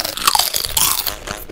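A cartoon character crunches and chews on something crisp, a burst of loud, close crunching bites over about a second and a half, with busy chewing noises throughout.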